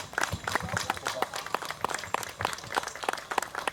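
An audience applauding at a Hmong American Day celebration in 2023, with a scattered, uneven patter of hand claps that rises and falls across the crowd at moderate distance.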